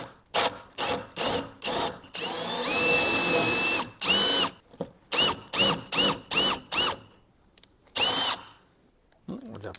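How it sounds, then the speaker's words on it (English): A power drill bores through wood in a car boot using a 22mm spade bit, running in short loud bursts with a longer sustained run, whining and grinding with brief pauses between. "take our 22mm spade bit, and hope that that's enough"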